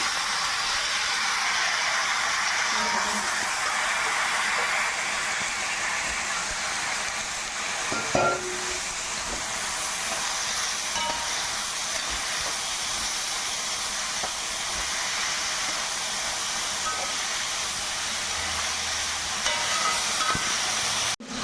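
Chopped bitter gourd fries with onions in a pan, giving a steady, moderate sizzle and hiss that runs throughout with a few brief clinks, and no voices.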